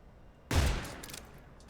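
Gunfire in the Metal Gear Solid Delta video game, a single sharp burst of shots, loud and close against a quiet background, followed by a short decaying tail.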